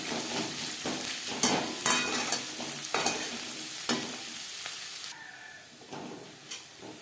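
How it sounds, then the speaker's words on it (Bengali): Sliced onions and green chillies sizzle steadily in a hot pan, with a spatula scraping and stirring in repeated strokes close by, with no talking. "পেঁয়াজ লালচে করে ভাজা হয়ে গেছে"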